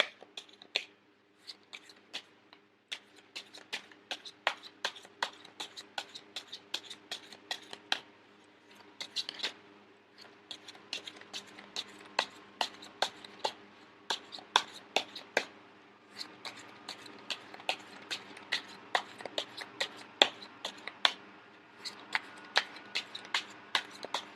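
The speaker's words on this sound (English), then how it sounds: "I am going to shuffle until the first card pops out, and then I'll start drawing the cards" A tarot deck being shuffled over and over, a fast run of sharp riffling clicks in bursts, close and fairly quiet, with no talking.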